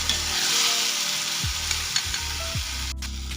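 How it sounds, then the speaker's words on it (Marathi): Ambadi greens sautéed with onion in oil in a pan, a bright steady sizzle with a few stirring scrapes and soft knocks. "आता आपण ना ही भाजी ना त्याच्यामध्ये टाकून घेऊया आणि छान परतून घ्यायची"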